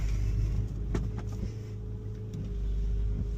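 A Porsche 911 (996) engine idles close by with a steady low rumble and hum, a few faint clicks and knocks over it, no voices.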